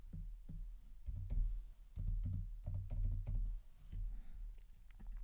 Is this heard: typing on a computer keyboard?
yes